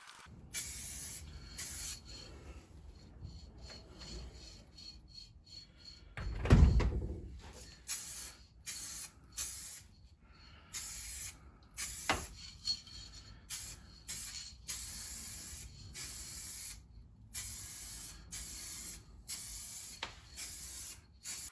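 A spray gun lays a final dust coat of paint over panels of a Jeep Patriot, a steady close hiss running in repeated bursts with brief pauses between passes and one louder thump partway through.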